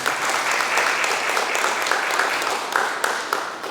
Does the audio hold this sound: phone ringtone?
no